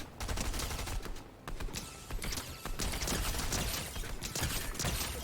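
Rapid automatic gunfire in the Fortnite video game, Chapter 3 Season 2, a loud, dense burst of shots running nearly continuously with a brief pause before resuming, with weapon handling clicks mixed in.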